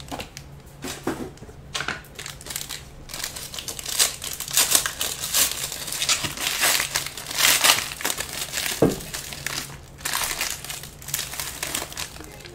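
Paper wrapping being torn and crinkled off a Spectra basketball trading card box, with loud, close rustling and ripping in repeated bursts and no talking.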